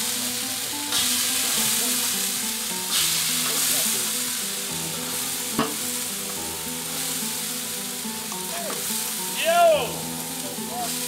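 Garlic sizzling and frying in oil in a pan for paella, a steady bright crackling hiss throughout, with occasional stirring clatter and a brief shouted exclamation near the end.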